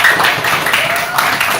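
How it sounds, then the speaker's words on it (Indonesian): Students in a classroom giving a short round of applause for a classmate, busy and continuous clapping with some voices blended in. "Tepuk tangan untuk Dedi."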